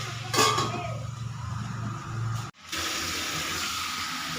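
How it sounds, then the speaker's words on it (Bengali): Water running and splashing as it is added to vegetables cooking in a pot, a steady pour with a brief clatter and a short break midway before the flow resumes. "সবজিগুলো এখনো সেদ্ধ হয়নি, সেই জন্য আমি মধ্যে একটু জল মিশিয়ে দিলাম"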